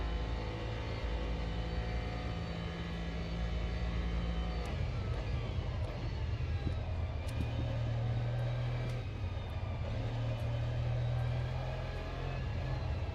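Race car engine in Automobilista 2, heard from inside the cockpit as a steady, muffled, dampened drone with a low rumbling note that shifts pitch a few times as it revs.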